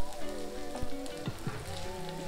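A corn mixture sizzles and crackles steadily in oil and butter in a pan, with small pops scattered through the frying.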